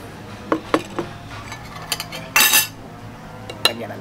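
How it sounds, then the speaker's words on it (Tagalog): A metal serving spoon clinks against a pot of white menudo, giving scattered light taps and rattles with one longer scraping clatter in the middle and no talking. "Lagyan natin yung serving spoon."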